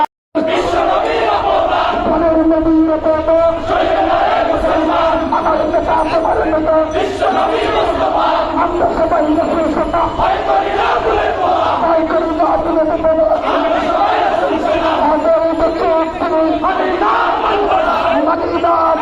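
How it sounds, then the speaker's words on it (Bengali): A large protest march crowd in Dhaka, near Baitul Mukarram, chants slogans in loud, continuous unison, voices rising and falling in rhythmic calls throughout, close and dense with no pauses. "বিক্ষোভ মিছিল করছে ইসলামী যুব আন্দোলন বাংলাদেশ ঢাকা মহানগর উত্তর"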